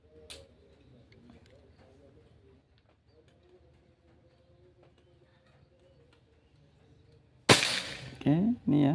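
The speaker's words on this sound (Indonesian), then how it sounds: "tembakan ke tiga." A PCP Bocap Pajero Gen 5 air rifle fires one sharp, loud shot with a 14.2-grain Canon Rocket pellet. Quiet ambience with pigeons cooing in the background comes first, and a voice speaks right after the shot.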